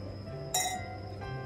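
Drinking glasses clink once in a celebratory toast at home, a single bright, ringing chink that fades quickly over a faint room hum.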